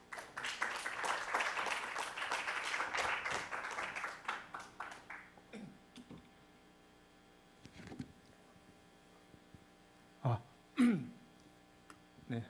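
A seated audience at a blockchain business forum applauds a speaker's introduction: dense, steady clapping for about four seconds thins into scattered claps, then a faint room hum with a few isolated bumps.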